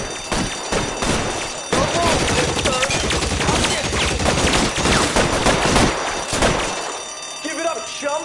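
Rapid gunfire fills a radio crime drama scene, sustained bursts of sharp shots and machine-gun rattle running for several seconds, loud and dense, before thinning out near the end.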